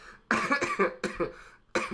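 Several harsh, loud coughs in quick succession, up close, with short pauses between bursts.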